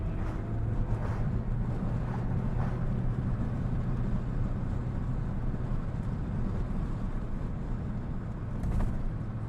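R53 Mini Cooper S driving and accelerating, a steady engine and road drone with rushing wind noise throughout, heard from inside the car.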